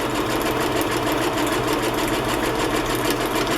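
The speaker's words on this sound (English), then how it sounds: "So I have it on zigzag. This is my new sewing machine, which I absolutely love." A new home sewing machine stitches on its zigzag setting, a loud, steady, rapid mechanical chatter with a fast regular pulse running continuously and close by.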